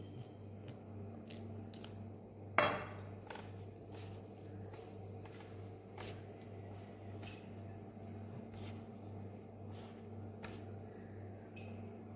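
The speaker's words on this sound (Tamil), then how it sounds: "கொஞ்சம் கொஞ்சமாக தெளித்து தான் பிசையணும்." Murukku dough is kneaded by hand while small amounts of water are sprinkled in. Faint, soft squishing and light patting sound close by in a quiet kitchen, with one sharper knock early on.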